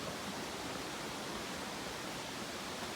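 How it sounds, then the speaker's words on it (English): A waterfall in the Smoky Mountains that a trail passes beneath makes a steady, dense roar of falling water, constant and unbroken throughout. "that's the only waterfall in the Smokies, maybe, that you can walk under"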